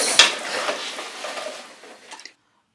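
Chicken curry being stirred in a clay mud pot, with a wet scraping and squelching churn that starts up close, loud at first, fades gradually and then stops abruptly.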